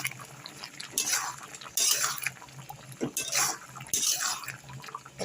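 Gravy in a pan is stirred after five-spice powder is added, giving wet, sloshing scrapes in several bursts over a steady low background, close by and with no talk.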